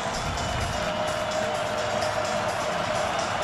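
Football stadium crowd at a 2014 South Dakota State at North Dakota State college game, a steady broad roar of cheering and noise from a large, distant mass of fans, continuous without breaks.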